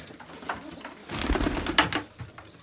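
Ayvalık breed pigeons cooing nearby in soft, low bursts, with some rustling and a few flapping movements in between.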